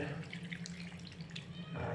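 A small amount of water pours into a cooking pot of vinegar-seasoned food in a rural kitchen, a brief steady splashing stream lasting about two seconds, close and fairly quiet.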